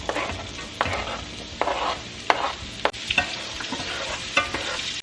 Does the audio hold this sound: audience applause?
no